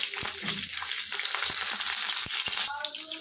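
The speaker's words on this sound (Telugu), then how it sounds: "ఈ పొటల్స్ని ఇందులో వేసుకోవాలండి వేసి ఫ్రై చేయాలి" Pointed gourd (parwal) pieces fry in a pan with a steady close sizzle, broken by a few sharp clicks of a utensil stirring against the pan.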